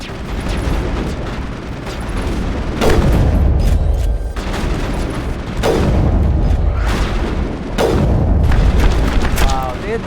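Heavy booming blasts from a grenade and weapons fire in Mass Effect 1, several deep explosions spaced a few seconds apart over a dense, loud rumble of combat noise.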